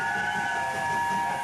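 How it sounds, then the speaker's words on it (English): A magical cartoon disco train rolls along with a steady rumble, and a sustained whistle-like tone rides on top. The sound is loud and continuous, and no one speaks over it. "Maddie, we seem to be on board some kind of a train."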